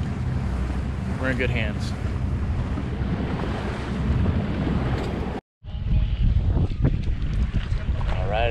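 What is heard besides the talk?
strong wind on choppy water during boat ride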